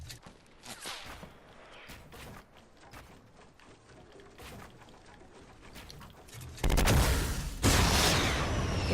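Gunfire in the video game Fortnite: faint distant shots and scattered reports through most of the stretch, then two loud close blasts of gunfire near the end.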